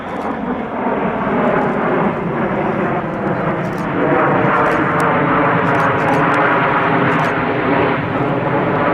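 Loud, continuous jet roar from the RAF Red Arrows flying a display at the Sywell air show, with two jets trailing red and blue smoke as they roll around the formation, filling the whole stretch without a break.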